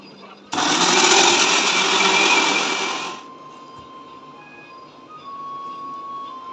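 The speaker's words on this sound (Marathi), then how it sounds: "ह्या टोमॅटोची पुन्हा एकदा पेस्ट बनवून घ्यायची आहे मिक्सरला" An electric mixer grinder whirs loudly for about three seconds as it grinds tomatoes into paste, then cuts off; a steady, close motor roar.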